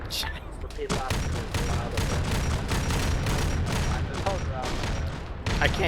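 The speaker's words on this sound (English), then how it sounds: "I can't even hear the comms over the gunfire." Relentless overlapping gunshots and booms from a video game firefight on an island map, loud and close, with players' voices speaking underneath the sustained fusillade.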